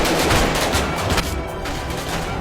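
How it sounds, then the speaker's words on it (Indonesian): Gunfire in a film scene comes as a loud, dense volley of rapid overlapping shots that fills the whole moment and eases off slightly toward the end, with no talking. "Ludwig ditembaki sampai mati."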